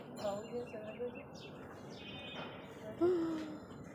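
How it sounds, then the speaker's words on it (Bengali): House sparrows chirp in quick, scattered bursts at moderate distance in bright sun, mixed with soft background noise and a brief voice-like sound near the end. "চড়ুই পাখি আছে"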